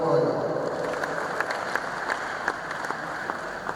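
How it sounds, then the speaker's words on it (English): An audience at a university inaugural lecture gives a round of applause for a professor, producing a sustained, moderately loud wash of clapping with sharper individual claps popping out and some talk mixed in. "please let's give a round of applause to Professor Emmanuel"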